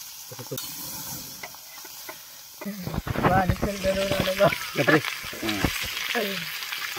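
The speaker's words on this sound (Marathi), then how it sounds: "अशा प्रकारे मछली फ्राय करायचं मित्रांनो" Fish frying in oil hisses and crackles steadily up close, the sizzle swelling midway while a voice talks over it.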